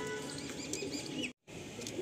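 Pigeons at a racing-pigeon loft coo and chirp softly amid faint rustling and a wing flutter, distant and quiet with a momentary break.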